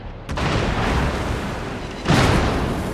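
Battleship shell salvo striking a low-tier British cruiser in World of Warships, heard as loud, dense booming explosions with a rumbling sustained roar and a second heavy impact burst partway through.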